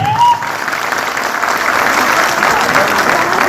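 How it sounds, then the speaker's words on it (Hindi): A loud round of clapping from a crowd at a business-building meeting, sustained and even throughout, with a faint tone near the start. "मैं चाहूंगा एक जोरदार ताली अपने ग्रेट अपलाइन के लिए।"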